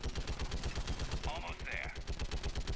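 Turret gunfire in the video game Mass Effect 3: a dense, continuous rapid-fire burst pulsing steadily throughout, with brief higher-pitched effects in the middle of the barrage.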